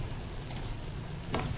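Vegetables are stirred in a pan with sesame oil, giving a steady soft sizzle with a brief scrape of the utensil near the end, close and fairly quiet with no talking.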